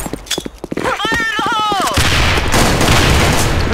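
Gunfire in a shooting video game: a burst of rapid shots and booms fills the second half loudly and continuously, after an earlier stretch of clicks and a tonal game sound.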